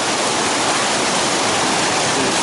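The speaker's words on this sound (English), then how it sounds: "crossing through some pretty cold water again. Pretty swift, deceptively so, right where he's at." Swift, cold winter river water rushes steadily and loudly close by as it is waded across, a dense unbroken roar with no voices.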